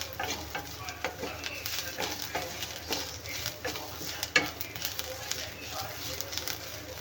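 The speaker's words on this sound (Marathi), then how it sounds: "तर इथे कांदा पण आपला छान भाजला आहे." Onion frying in a pan, a continuous sizzle with stirring scrapes while a person talks over it.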